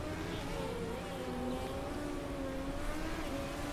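Race cars run steadily in the Motorsport Manager racing game, a constant distant engine drone with a slowly wavering pitch that holds at an even, low level throughout.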